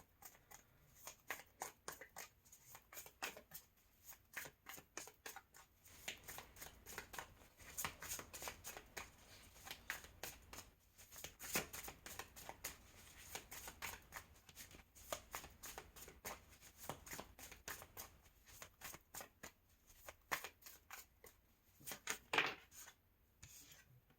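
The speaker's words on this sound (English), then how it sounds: "as I was shuffling the cards" Tarot cards being shuffled over and over, crisp riffling and soft slaps in a steady rhythm, close by and fairly quiet.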